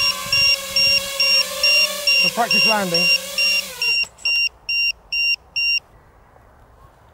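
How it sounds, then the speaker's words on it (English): An FPV drone's battery alarm sounds a steady run of sharp, loud, evenly spaced beeps. A voice talks over the first part, then the beeps continue alone in quicker bursts. "I've removed the annoying battery alarm because it doesn't actually seem to do anything other than beep"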